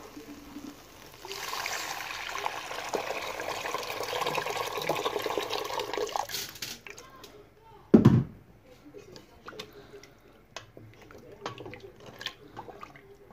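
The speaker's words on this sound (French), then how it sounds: "Donc je vais mélanger et je vais rajouter de l'eau." Water pours steadily into tomato soup for several seconds, then stops, followed by a loud knock and faint kitchen clatter. People talk at times.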